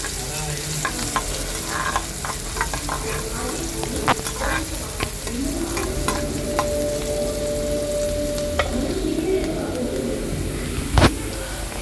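Onion with turmeric powder sautés in a pan, a steady sizzle with repeated clinks and scrapes of a spoon stirring, and a sharp knock near the end; a voice speaks at times over the cooking.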